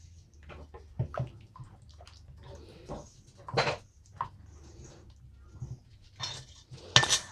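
Hot cross bun ingredients being mixed by hand in a bowl, giving a run of scattered scrapes and knocks with a few sharper clinks, fairly close and moderately quiet, with no talking.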